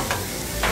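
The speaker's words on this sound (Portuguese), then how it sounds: "Vamos colocar aqui, fritar tudo aqui, ó." Spices and turmeric fry in a pan with dried herbs and black pepper, making a dense, loud sizzle with two brief bursts of stirring.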